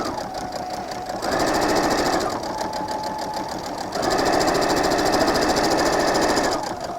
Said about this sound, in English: I'm going to do a back stitch there